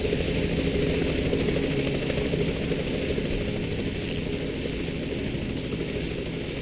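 A helicopter hovering in the video game Reverse: 1999, giving a dense, steady rotor and engine roar that stays loud and unbroken throughout.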